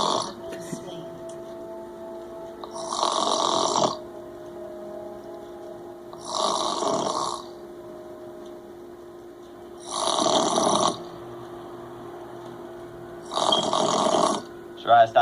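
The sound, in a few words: person snoring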